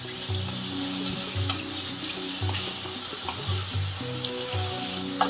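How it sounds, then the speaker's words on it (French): A Cameroonian mushroom sauce with soy protein fries in a pan, a steady close sizzle running throughout, with a low rhythmic hum underneath. "c'est en train de griller"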